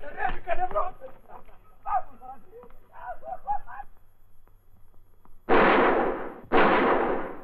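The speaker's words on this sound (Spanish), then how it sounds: "¿Por dónde han sonado los disparos?" Someone speaks briefly, then after a pause two loud, sharp gunshots ring out about a second apart, each with a long echoing tail.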